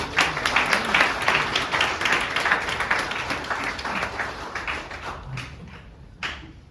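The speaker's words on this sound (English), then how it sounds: "Give a round of applause." An audience claps for a lightning talk speaker, a loud dense round of applause that holds steady, then thins and fades away with a few last scattered claps near the end.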